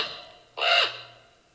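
A single harsh, croaking call from a common raven rises sharply out of a low hum, lasting about a quarter second before fading to quiet.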